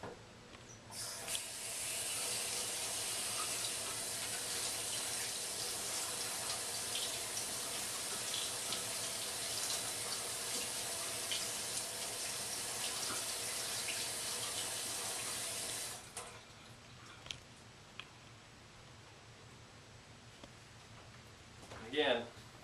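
Tap water runs steadily from a faucet onto carpet samples being rinsed, a continuous broadband splashing hiss that lasts about fifteen seconds and then stops abruptly, leaving quiet room tone with a few small handling sounds.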